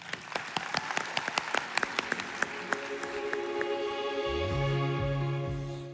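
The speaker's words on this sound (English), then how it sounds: "Let's give a round of applause for Mr. Clark Hunt." Audience applause at a business hall of fame awards event, clapping in a scattered start that swells into dense, sustained applause from a large crowd in a hall.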